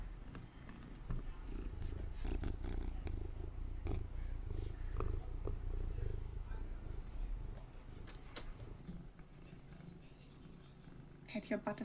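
A house cat purrs close by in a continuous low rumble for most of the stretch, with faint background noise and brief clicks near the end.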